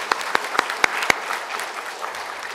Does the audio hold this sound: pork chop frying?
no